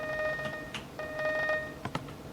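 Ringing phone in the Minecraft game Hypixel SkyBlock, used to call the slayer quest giver: a synthetic bell-like ring in two bursts with a short pause between, moderately loud and clear with no talk over it.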